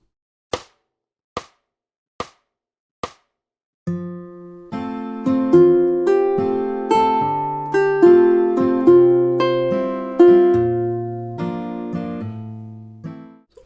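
Ukulele and acoustic guitar play a gentle two-measure duet, entering after four sharp count-in taps, with steady plucked notes and strummed chords ringing close and clear without talk.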